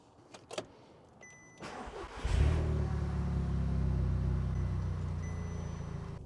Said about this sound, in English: we're taking the Audi on a quick little test drive